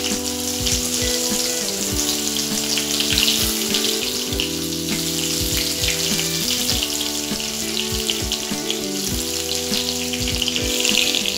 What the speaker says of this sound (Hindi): राई हमारी तड़कने लगे अभी गैस धीमा करेंगे